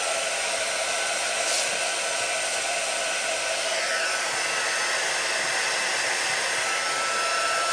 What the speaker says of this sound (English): Noisy now while I heat the gun up